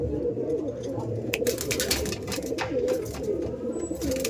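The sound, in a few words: pair of Giribaz pigeons cooing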